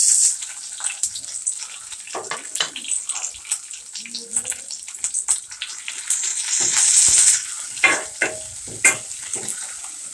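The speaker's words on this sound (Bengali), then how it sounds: "এখন দিব সেই কাঁচামরিচ, পেঁয়াজ আর রসুন তেলে দিয়ে দিলাম।" Green chili, onion and garlic frying in oil in a wok, a steady crackling sizzle with sharp pops and spatters, close and moderately loud, with faint voices now and then.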